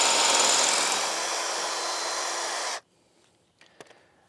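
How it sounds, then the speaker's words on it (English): Power drill boring a 5/16 inch hole through a 2x6 board and a metal post pipe while a shade house is built, a steady loud whir for under three seconds that stops abruptly, followed by faint handling clicks. "I'm going to drill a 5/16 inch hole through this board, through this pipe"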